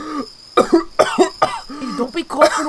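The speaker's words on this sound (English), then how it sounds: "Don't be coughing over here on me!" Repeated coughs from a character in the Baldi's Basics video game, a quick run of sharp, close bursts with brief gaps, no talking.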